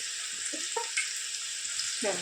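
Chopped onion frying in hot oil for tempering a spicy chicken dish, a steady close sizzle with a few faint clinks and scrapes of stirring, no voices over it.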